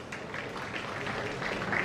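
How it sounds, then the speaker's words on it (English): Applause from an interview seminar audience for a participant, a steady dense wash of clapping holding for the whole moment without a break. "So I think we should give a big round of applause for this guy."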